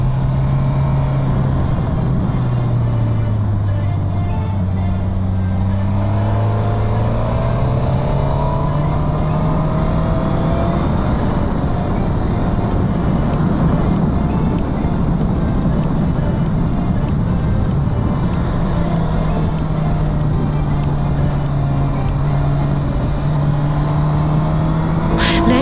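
A motorcycle rides along a road toward the Allerheiligen waterfalls. The engine drones loud and continuous, with slow rising and falling pitch as it accelerates and shifts, over heavy wind rush.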